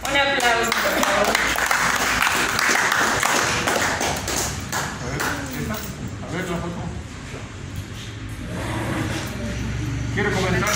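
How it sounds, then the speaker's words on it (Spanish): Audience applause for a child named Cris at a chess awards ceremony, steady clapping filling the room for several seconds with voices mixed in underneath. "Un aplauso, por favor."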